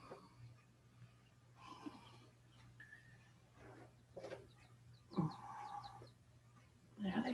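Baby chicks clucking and peeping under a heating pad, with scattered soft calls coming in short bursts and rising in the last few seconds over a low steady hum.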